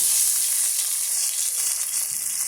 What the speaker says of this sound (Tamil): 2 கைப்பிடி அளவுக்கு சின்ன வெங்காயமும் 1 கைப்பிடி அளவுக்கு வெள்ளைப்பூண்டு வந்து நசுக்கி வச்சுருக்கேன், சேர்த்துக்கலாம்.